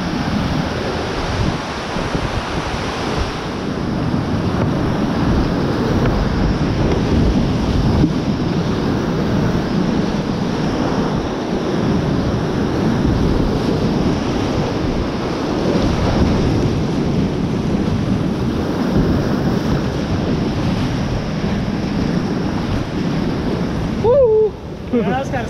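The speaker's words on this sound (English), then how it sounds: "Got an exciting rapid down here." Rushing river rapids on the Big East Fork, a steady loud roar of churning whitewater filling the whole stretch while paddling downstream, with voices faintly under the noise.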